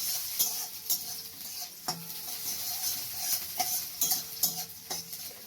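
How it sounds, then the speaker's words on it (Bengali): Chopped onions with panch phoron sizzle in oil as they are stirred for a prawn and biulir dal, a soft continuous fry broken by several clinks and scrapes of a spoon against the pan. "কুচানো পেঁয়াজগুলো দিয়ে দেব, দিয়ে ভালো করে নাড়াচাড়া করে লাল করে ভেজে নেব পেঁয়াজটা"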